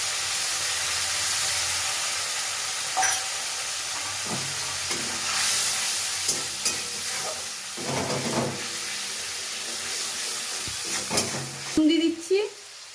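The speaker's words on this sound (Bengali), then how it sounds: "একটু জল দিয়ে দিলাম।" A splash of water hits frying ginger and green chili paste with cumin seeds, raising a loud steamy hiss that churns on as a spoon scrapes and stirs in bursts, ending in a few clattering knocks.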